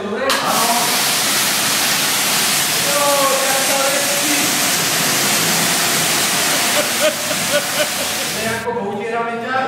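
Water sprays in a steady, loud rush, rinsing wax off a child during a bath, running almost without a break before stopping abruptly near the end.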